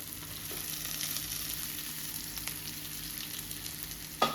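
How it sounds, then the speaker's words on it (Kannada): Cooked rice goes into a hot frying pan, giving a steady close sizzle with faint scrapes and a louder clatter at the very end. "ಇವಾಗ ನಾನು ಇದಕ್ಕೆ ಮಾಡಿಟ್ಟಿರೋಂಥ ರೈಸ್ ಹಾಕ್ತಾ ಇದ್ದೀನಿ"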